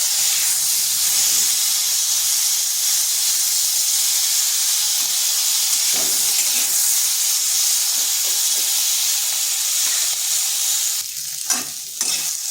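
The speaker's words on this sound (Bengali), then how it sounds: "এরপর সিমটাকে ভেজে নেব।" Flat beans fry in oil in a pan, giving a loud, steady, close hiss throughout, with a few light stirring clicks and scrapes near the end.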